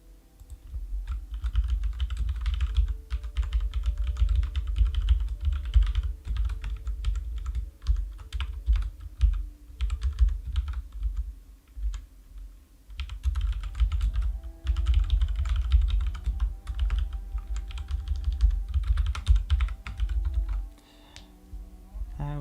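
Fast, steady typing on a computer keyboard during code debugging, close and continuous with brief pauses, no talking.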